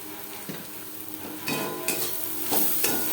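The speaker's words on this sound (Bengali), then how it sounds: "পেঁয়াজের সাথে হলুদ বেশ ভালো করে মিক্সড করে দেবো" Turmeric is stirred into onions frying in a pan for masoor dal with ridge gourd, making a steady sizzle broken by a few louder scraping strokes of the spoon, close and without any voices.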